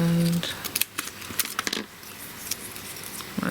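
Craft material for a handmade gift box is snipped with scissors, making a few quick, close cuts and crisp clicks, with light handling noise between them.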